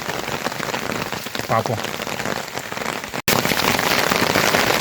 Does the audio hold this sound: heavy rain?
yes